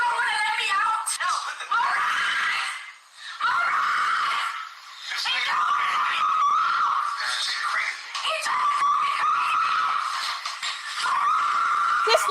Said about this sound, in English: She's doing all this screaming.